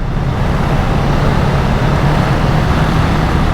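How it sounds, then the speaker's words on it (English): A Honda Rebel 500 motorcycle being ridden in second gear, a loud continuous engine drone blended with rushing wind noise, close and steady throughout. "Let's get it in second gear so it can get some revs up"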